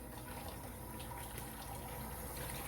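Warm water pours steadily from a tap in a soft, continuous stream for cleaning fish, fairly quiet and close, with no talking.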